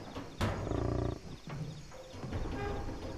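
Deep, rumbling tiger roars in the video game Far Cry 3, a loud burst followed by several shorter growling roars in uneven succession, close and dominating the scene.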